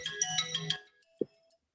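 A phone ringtone plays a short bright melodic phrase of several repeated tones, then cuts off, followed by a single brief low thump and quiet; fairly faint and close.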